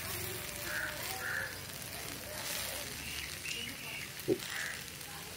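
Broad beans are sautéed and stirred in a pan for a poriyal, giving a soft, close, continuous sizzle with faint crackles and one short knock near the end.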